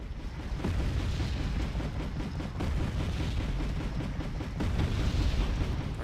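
An artillery barrage in the wartime strategy game Wargame Red Dragon, heard as a continuous deep rumble of distant shelling that swells and booms without pause.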